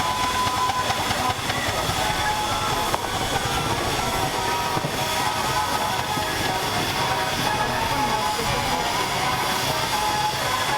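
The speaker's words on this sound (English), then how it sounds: "nice powerful engine as it makes its way up the slight incline up to the top side of the arena" A scaled-down steam engine labouring up a slight incline at a steam fair arena, giving a loud continuous mechanical rumble and hiss with steady chuffing texture throughout.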